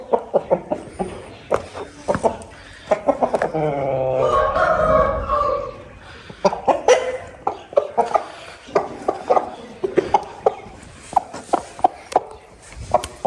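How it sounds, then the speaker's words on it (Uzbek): A rooster lets out one long, drawn-out crow in the middle, surrounded by sharp, scattered clucks and knocking clicks before and after, fairly close and with no talk. "Ana xo'roz."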